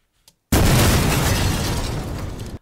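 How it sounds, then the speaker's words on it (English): An explosion sound effect plays during a Pro Tools surround mix. After near-silence and one tiny tick, a sudden loud blast erupts into a dense, rumbling roar that holds for about two seconds before cutting off. "Here's our explosion on its own, first of all."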